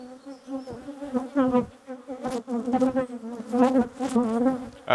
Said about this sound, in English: these bees are battering me now